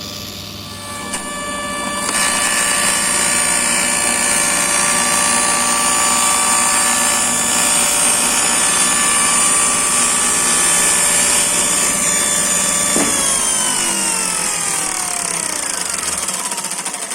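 Table saw blade spinning up and cutting through a zero clearance throatplate, a loud sustained high whine that holds steady, then winds down near the end.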